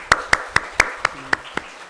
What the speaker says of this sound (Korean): 우리 청년들 잘하라고 하면 박수 한번 쳐주세요.